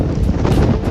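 Loud, continuous beach wind on Boracay roars and buffets the microphone, a low rumbling gust with no pauses.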